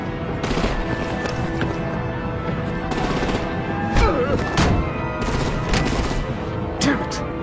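Dense gunfire fills a combat scene in the video game Batman: The Enemy Within: continuous rattling automatic bursts, steady and loud, with a few heavier blasts mixed in and no talk.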